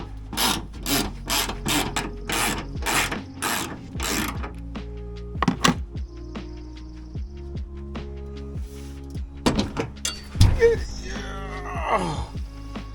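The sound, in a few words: ratchet removing Sequoia hood mounting bolts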